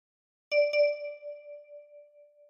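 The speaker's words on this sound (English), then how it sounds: "With your right thumb, pluck number 2," Two quick plucked notes on a 10-key kalimba ring out together at the same pitch and then fade slowly into silence, a soft, clear metallic tone with nothing else heard.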